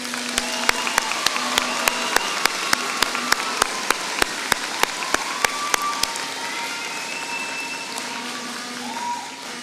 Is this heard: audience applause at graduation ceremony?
yes